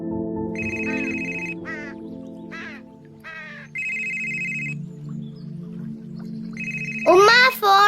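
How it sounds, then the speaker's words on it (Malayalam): A mobile phone rings with a repeated electronic tone in several bursts, interleaved with chirpy synthetic sounds, as a short Malayalam film scene plays with background music and a voice at the end. "ഉമ്മ ഫോൺ അടിക്കണേ"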